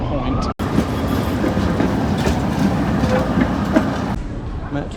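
Prague metro train running in a station or tunnel, a loud continuous rumble with rail clatter and screech throughout, briefly cut at the start and thinning near the end.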